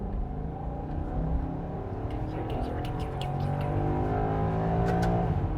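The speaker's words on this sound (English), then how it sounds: "I'm not too sure if you guys can actually hear the V8" A Maserati GranTurismo V8 engine revs from inside the car, a steady low droning growl that rises gradually in pitch, moderately loud throughout with faint higher ticks above it.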